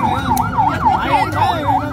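A close ambulance siren cycles in rapid repeating yelp sweeps, loud and steady across two seconds, with faint voices underneath.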